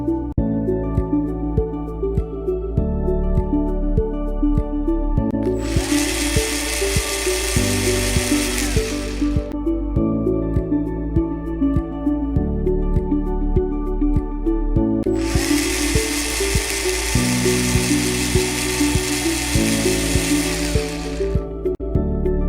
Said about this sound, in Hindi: चलिए मैं अपना ड्रिलर ऑन कर देता हूँ।